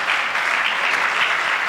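A church congregation applauds, producing a brief, dense burst of steady clapping that holds at an even level from start to finish with no voices over it.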